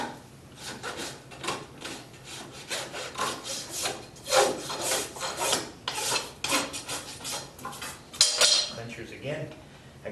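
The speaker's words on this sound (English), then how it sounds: "This is the clinchers here. These nails that are sticking up that Charles just filed down. Now we'll set them and roll them" Nails are set and clinched into a horse's hoof during hoof care, making steady scraping and rasping strokes at close range with a few metallic clinks, continuous and moderately loud with no talking.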